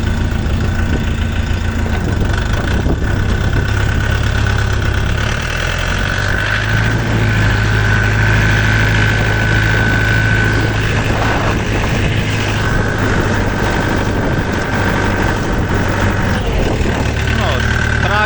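A Dongfeng 404 tractor's diesel engine idles steadily and loud throughout, with a low rumbling drone and some knocking, while voices talk over it.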